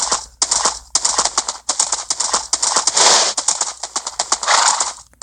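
A horse's hooves clip-clop rapidly in a zombie survival video game, a loud continuous run of sharp clattering hoofbeats in quick rhythm with brief pauses, heard close with no voices.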